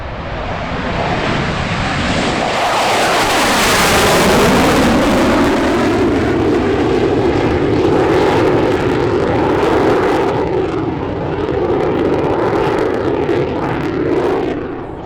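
A MiG-29UB jet making a pass at a military airshow, its loud engine roar swelling as it approaches and holding steady as it passes, then slowly fading away.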